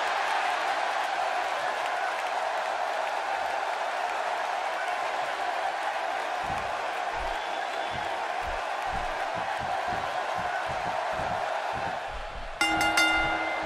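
A steady arena crowd roar from the WWE 2K16 wrestling video game fills the background evenly as a wrestler heads to the ring, and a brief bright chiming tone rises near the end.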